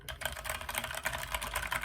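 Rapid typing on a Red Dragon mechanical computer keyboard, a dense run of close, clicky keystrokes with no pauses, moderately quiet and with no voice.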